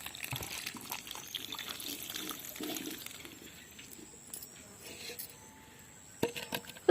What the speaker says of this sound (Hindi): ये देखिए, इसमें मैं 1 लीटर पानी डाल रही हूँ।